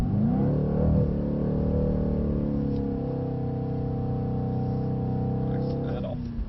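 A car engine revs hard at full throttle, climbing in pitch and then holding a loud, sustained high drone close by for several seconds before easing off at the end.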